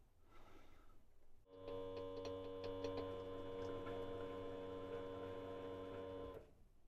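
A Chinese lathe takes a light scratch pass across a workpiece, giving a steady motor hum with tonal whine and faint ticking from the drive, running evenly for about five seconds before stopping.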